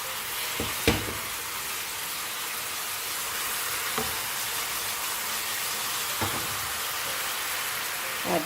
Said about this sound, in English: Masalas are frying.